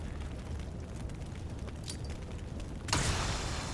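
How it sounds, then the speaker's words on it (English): A grenade blast in the tactical strategy game Xenonauts 2 arrives as a sudden loud burst of rushing, crackling noise, following a continuous low rumbling background with no talking. "We'll just throw a grenade at him."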